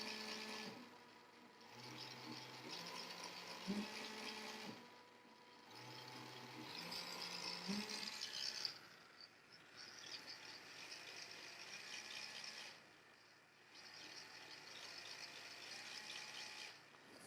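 Small Arduino line-following robot's motor running at slow speed, a steady mechanical whir with a rhythmic, cycling rattle that rises and falls in repeating bursts of about four seconds, fairly quiet and heard alone.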